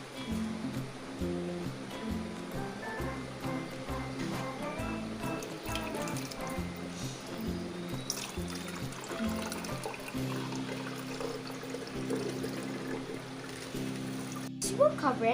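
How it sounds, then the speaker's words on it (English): Fermented rice wash water being strained from a rice cooker pot, a continuous close liquid pouring and trickling sound with faint drips, steady throughout and ending with a few clinks. "Next, you strain it."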